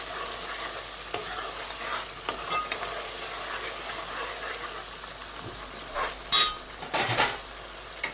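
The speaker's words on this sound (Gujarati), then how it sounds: "બધાને મિક્સ કરીને પાકવા દેવાનું છે ધીમે ધીમે" Mixed prawn recipe masala with curry leaves is stirred and left cooking slowly in a pan, giving a low continuous sizzle punctuated by scraping strokes and a few metallic clinks of a spoon against the pan, close and without speech.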